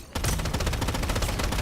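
Rapid automatic gunfire in the Tower of Fantasy video game, a dense, loud burst of repeated shots firing in a steady rhythm after a brief quiet start.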